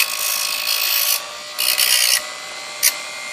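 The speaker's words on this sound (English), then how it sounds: "Just get them burrs off of there." Hand file rounding and deburring the edges of a homemade differential tool for a B44, 44.1 and .2, in a few scraping strokes of rasping friction, close and fairly loud, followed by a short sharp scrape.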